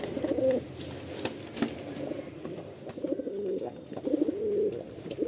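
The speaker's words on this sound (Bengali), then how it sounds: "পায়রাটা খুব একটা পছন্দের পায়রা আমার" Domestic pigeons coo at home in soft repeated phrases, moderately close but quiet, with faint background noise and no speech.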